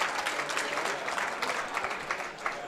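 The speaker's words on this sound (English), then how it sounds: "He's getting a big round of applause from the crowd for that attempt." Crowd at a high school powerlifting nationals meet applauds a lift attempt, a sustained patter of many hands clapping, moderately distant and fairly even for a few seconds.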